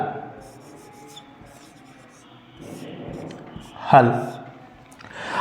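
Solution steps for an algebra multiplication problem are written on a board in soft, scratchy rubbing strokes, partly under a teacher speaking, with a louder scrape near the end.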